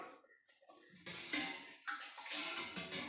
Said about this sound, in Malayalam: ആവശ്യത്തിന് വെള്ളം ചേർക്കാം.